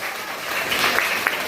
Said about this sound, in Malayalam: ഫാദറിന് ഏറ്റവും നല്ലൊരു കൈയടി കൊടുത്ത് നമുക്ക്